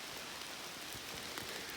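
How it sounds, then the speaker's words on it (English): Rain pattering onto leaves along the Appalachian Trail near Great Barrington, Massachusetts, a close, dense and continuous hiss of drops striking foliage with no voices. "I can really hear it hitting up on the leaves."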